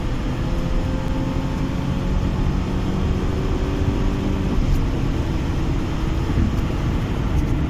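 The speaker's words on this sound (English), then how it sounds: "Wow, massive wheel spin off the line." At the Santa Pod drag strip, a Rover 620 launches off the line with heavy wheel spin: a loud, continuous engine roar with a steady low rumble that holds for the whole stretch.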